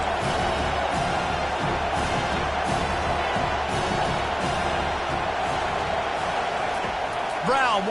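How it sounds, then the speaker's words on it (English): At a college football game, a large stadium crowd roars continuously as the home side presses the opponent deep in their own end, with rhythmic bursts of noise throughout and a commentator talking over it. "this crowd trying to help keep them there"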